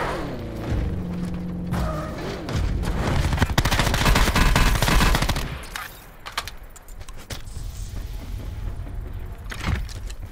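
Gunfire in Call of Duty: Black Ops 4 Blackout, a rapid automatic burst of shots rattling loudly for several seconds among game effects, then easing into scattered quieter sounds.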